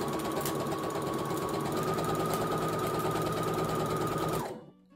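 Sewing machine running continuously while stitching an infinity scarf, a close, even mechanical whir with rapid needle chatter that stops abruptly just before the end.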